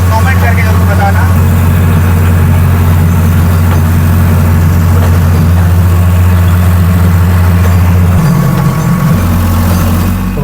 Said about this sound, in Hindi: ये 45 HP का ट्रैक्टर बिना दबे चला रहा है